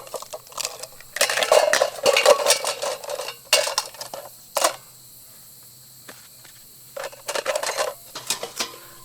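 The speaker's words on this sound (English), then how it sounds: "Frying pan action." Camping cookware rattles and clinks in short bursts as a metal pan and cutlery are handled close up, with bright clanks, scraping knocks and quiet pauses between the clusters of sound.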